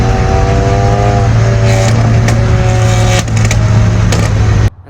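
A Genesis Coupe 2.0T with a straight-pipe exhaust revs hard and loud, a raspy sustained drone that climbs in pitch and then cuts off abruptly at the end.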